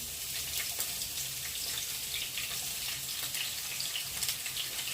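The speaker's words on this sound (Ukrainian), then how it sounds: "Тепер беремо на розігріту сковорідку, розстрибушуємо цю цибульку." Chopped onion hits a heated pan and fries over medium heat, giving a steady, fairly faint hiss and sizzle that runs evenly throughout with no talking.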